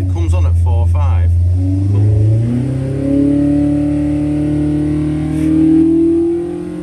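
Race car engine revving under load on a dynamometer during prep for Brands Hatch, a loud, sustained mid-pitched roar climbing steadily through the rev range and holding high, close up.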